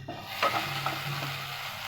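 Black cumin seeds dropped into hot oil give a brief burst of crackling sizzle that settles into a quieter, steady fry close by, with no one talking.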